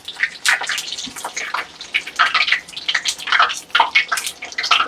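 Running tap water splashes over food being rinsed in a kitchen sink, a close, uneven gushing and spattering that rises and falls in bursts without talk.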